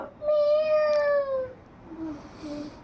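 A young girl imitates a cat's meow in one long, rising-then-falling wail that lasts over a second, followed by a softer, shorter vocal sound close to the microphone.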